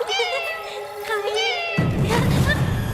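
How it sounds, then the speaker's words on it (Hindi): A cat meows clearly and close by, a drawn-out wavering cry, followed by a burst of louder background noise. "हाँ, दूसरी बिल्ली।"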